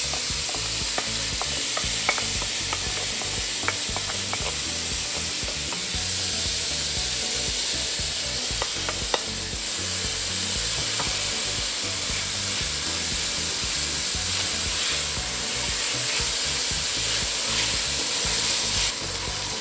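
Chopped vegetables sauté in olive oil inside a Dutch oven, with a steady close sizzle and repeated scraping and stirring clinks from a utensil against the pot bottom throughout, no voices.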